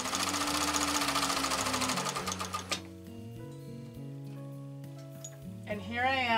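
A sewing machine stitches a table topper or napkin, with a dense, rhythmic mechanical run for the first few seconds that then drops away, while steady tonal music plays underneath.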